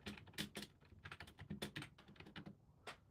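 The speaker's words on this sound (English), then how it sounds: "I'm going to quickly type here" Quick, uneven keystrokes tap on a computer keyboard nearby, a run of crisp clicks with brief pauses and no talking.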